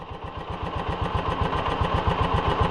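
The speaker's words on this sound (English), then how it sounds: "This one idles good" A side-by-side UTV engine idles steadily close by with a fast, even, throbbing putter and a faint mechanical clatter. No voices are heard.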